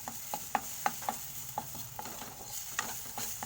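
Potatoes and chili fry in a pan for chowmein, with a steady sizzle under regular scraping strokes of a spatula stirring the pan, close and moderately quiet.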